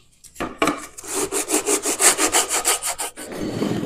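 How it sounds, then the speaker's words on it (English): Burned-up sandpaper rubs back and forth along the edges of a metal welding gun holder, a loud, close, rhythmic rasp of about a dozen even strokes after a few starting scrapes. "I'm just going to take some burned up sandpaper and sand all the edges and make everything nice and smooth"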